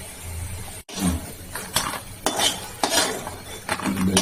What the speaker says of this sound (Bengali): আর একটু ভাজা হোক তারপর তুলে দেবো